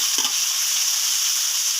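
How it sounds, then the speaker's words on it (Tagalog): Onion and garlic sauté in a pan, a loud, constant sizzle with a quick scraping stir near the start, close up and without talk. "Mekos-mekos natin ng konti, guys. Para pantay ang kanyang pagluluto ng sibuyas at bawang."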